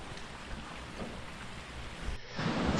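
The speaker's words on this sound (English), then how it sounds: "you can see the raindrops falling onto the camera lens" Rain falls steadily during a woodland walk by a reservoir, a close, even hiss of drops that rises a little near the end, with no talking.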